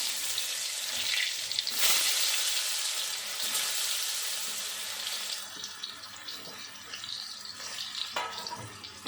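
Steamed potatoes hit a kadai of hot oil tempered with cumin and bay leaf, a loud close sizzle that swells at first and then settles into a steady frying hiss with occasional stirring scrapes.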